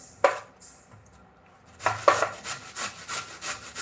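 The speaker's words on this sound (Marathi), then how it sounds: "असं खीस निघतं हे छान बारीक निघतं एकदम मोठी खिसणी असली तरी चालतं" Beetroot rubbed over a fine kitchen grater, a few scrapes followed by a run of rhythmic rasping strokes, close and fairly loud, no talking.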